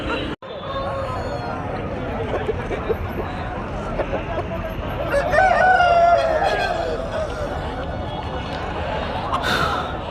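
Chickens and roosters with a rooster crowing amid a busy Friday poultry market in Nallapadu, people talking throughout and a louder stretch of crowing and clucking in the middle.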